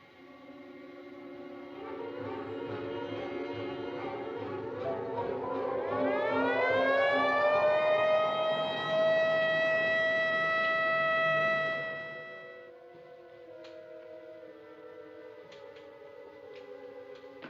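An ambulance siren in a 1952 city scene winds up as a mechanical wail, rising in pitch over several seconds, holds a loud steady tone, then cuts off abruptly into quieter background sound.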